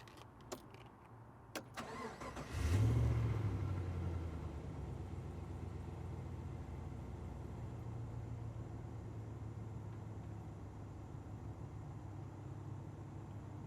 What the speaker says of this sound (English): I'm gonna start this LS motor. You get an idea what it sounds like.